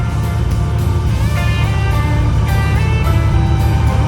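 A 2005 Dodge Dakota's engine, parked for five years, runs at a steady rough idle close by, a loud, even mechanical drone with a faint whine and rattle over the whole stretch.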